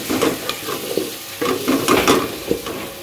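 Tomatoes with salt and turmeric fry in a pan while a spoon stirs them. Close, busy sizzling sits under repeated scraping and clinking strokes, with no talking.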